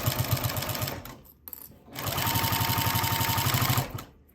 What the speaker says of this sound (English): Little back stitch there at the corner.